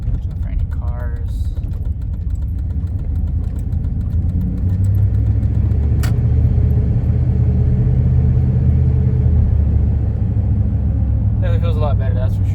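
A 1998 Dodge Ram pickup truck drives along with a low, steady engine and road rumble heard from inside the cab, growing slightly louder partway through, with brief bits of someone talking.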